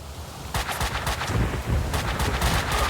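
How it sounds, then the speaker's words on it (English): Gunfire in Max Payne 2 erupts in rapid bursts, close and loud, with several clusters of shots fired in quick succession over a dull low rumble. "Who's shooting me?"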